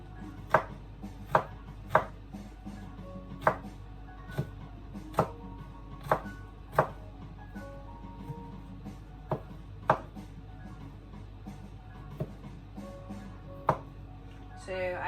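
Garlic chopped with a knife on a board, a series of about a dozen sharp, evenly spaced chops close by over a low steady background hum.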